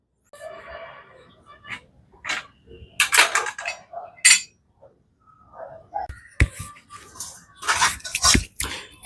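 Tiger prawns pickle mixed in a vessel, with repeated metallic clinks and scraping of a utensil against the pot in irregular bursts, alongside some handling noise.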